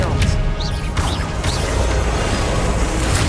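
Confringo fire spell blasts in the Hogwarts Legacy video game, a string of sharp bursts and impacts over a dense, loud battle din, with a spoken voice under the action.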